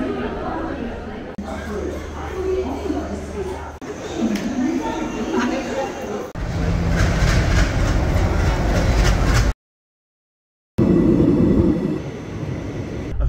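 Indian Railways train rumble and rattling wheels fill several choppy segments, with people chattering in the background and a short stretch of silence near the end.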